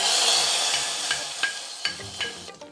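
Hot tempering with asafoetida and curry leaves is poured into a bottle gourd stew, giving a loud hiss that fades, then a few scraping stirs near the end.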